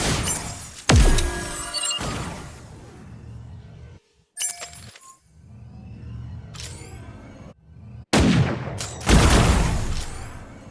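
Gunfire in a video game, several sharp loud bursts with ringing tails separated by quieter gaps and short silences.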